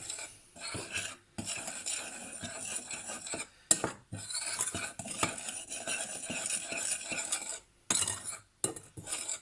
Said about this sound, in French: Je la mélange pour bien répartir avec le lait